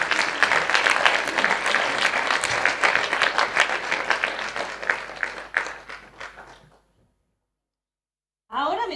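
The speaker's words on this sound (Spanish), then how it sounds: "vamos a recibir a los artistas con un fuerte aplauso." An audience welcomes performers with strong applause at a talk-and-performance event, dense clapping that thins and fades out after about six seconds, followed by silence and then a voice starting to speak.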